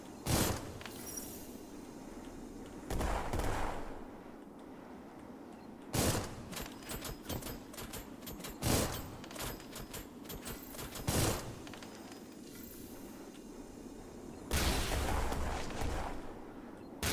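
Gunfire in the video game Armored Core, with several loud bursts of shots and impacts separated by quieter mechanical rumble, coming in clusters across the stretch.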